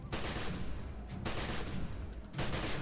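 Rifle fire in the video game The Secret World comes in three dense bursts separated by brief gaps, loud and close amid ongoing game noise.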